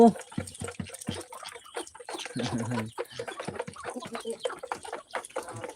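Chickens cluck and cackle in short irregular bursts nearby, with a voice speaking intermittently among them.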